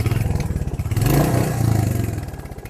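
Royal Enfield Hunter 350 single-cylinder motorcycle idling close by, its exhaust thumping in a steady rhythm, then swelling briefly with a short rev before settling back to a compact pulsing note.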